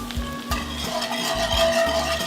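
Cream is stirred into a sizzling skillet after a prime NY steak has been seared. A utensil scrapes in regular strokes, about two per second, over a continuous close-up sizzle and bubbling, with no talk.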